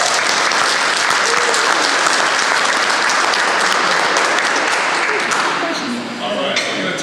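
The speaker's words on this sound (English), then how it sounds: "Give them a round of applause." An audience at a youth sports coaches clinic breaks into sustained, dense applause for about seven seconds, tapering slightly near the end.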